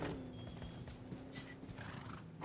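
A horse in a multiplayer video game, its whinnies and hoof clip-clops mixed into a dense, steady wash of game sound with no clear talk.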